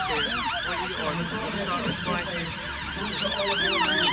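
An ambulance siren wails loudly and steadily with a rising and falling sweep as the vehicle arrives at a road traffic collision rescue demonstration, with engine and street noise beneath.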